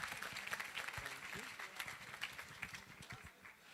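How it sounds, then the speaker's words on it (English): Applause from an audience at a conference closing ceremony in Rwanda fills the room, clapping steady and moderately loud, with voices and scattered noise mixed underneath. "A big round of applause."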